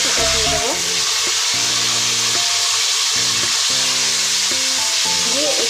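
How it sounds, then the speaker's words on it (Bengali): Chopped onions frying in a pan for chicken kosha, a steady close sizzle that runs without a break, with stirring and scraping noises over it and no talking. "এরপরে আমি এখানে কেটে রাখা পেঁয়াজ নিয়েছি, সেটা দিয়ে দেবো।"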